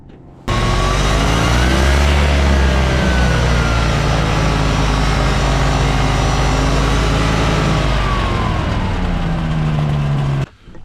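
A Challenger ultralight aircraft on experimental tires taxis with a loud, continuous engine drone close by, its pitch gently rising and falling before cutting off near the end.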